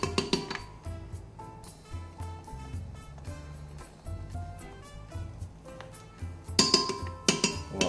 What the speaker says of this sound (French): on va prendre 3 cuillères à soupe de glace à la vanille.